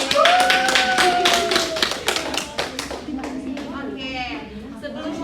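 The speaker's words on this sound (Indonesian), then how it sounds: "boleh beri tepuk tangan untuk Fadila" Audience clapping for a student presenter in a microteaching classroom session, a burst of hand claps that tapers off over a few seconds, with voices talking over it.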